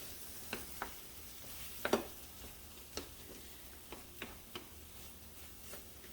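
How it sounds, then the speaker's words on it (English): Eggs and veggies stirred and scrambled in a skillet, heard as sparse, quiet clicks and scrapes of a utensil against the pan with a faint sizzle underneath. "I just do it right here in the skillet, give it a good swirl, mix in those veggies in the tortilla shell"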